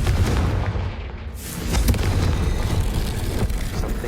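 A fire blast spell in the Hogwarts Legacy video game erupts with a loud booming roar, followed by rumbling, crackling explosive bursts and debris that continue for several seconds.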